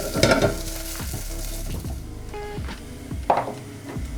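Onions for a steak sandwich fry and sizzle in a pan while being stirred, with a few scraping bursts and soft wooden knocks over the continuous hiss.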